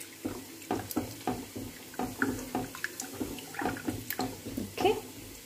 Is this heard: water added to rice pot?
yes